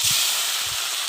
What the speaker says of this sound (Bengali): এবার তেলের ভিতর দিয়ে দেব তেজপাতা এবং ওই ফালি করে রাখা শুকনো মরিচ ফোড়ন